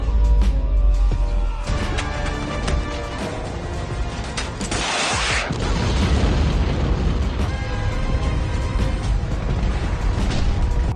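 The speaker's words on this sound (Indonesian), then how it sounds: "Ledakan tersebut membuat salju tersebut longsor." A loud, rumbling explosion from a film scene sets off an avalanche, with crashing debris, followed by a sustained roaring rush like tumbling snow and distant booms.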